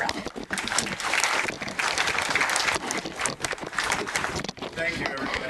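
Audience applause at a community awards ceremony, a dense, loud burst of crowd clapping that continues throughout, with voices mixed in.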